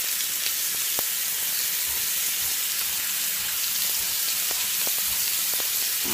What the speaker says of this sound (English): Listen to that sizzle. Nothing like hearing that sizzle when you're preparing a steak.